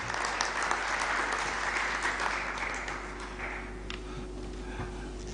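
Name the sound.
audience applause after a presentation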